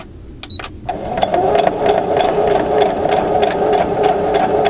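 A sewing machine stitches a quilt block using a quarter-inch quilter's foot, starting after a few clicks and then running in a steady, close mechanical whir to the end, with no talking.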